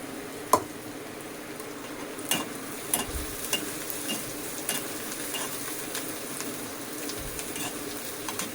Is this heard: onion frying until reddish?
yes